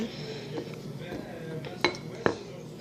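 Utensils stirring butter slime with dish soap in a bowl, a few soft scrapes and two sharp clinks near the end, close and moderately quiet under faint background noise.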